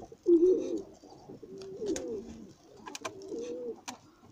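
Racing homing pigeons coo softly in low, throaty phrases, with a few sharp clicks and rustles nearby.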